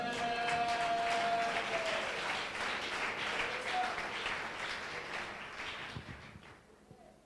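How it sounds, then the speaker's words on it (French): A church congregation applauds during a Christian sermon. The applause is a dense, loud wash of clapping and cheering that slowly thins and fades toward the end. "Acclamons pour elle, acclamons pour elle"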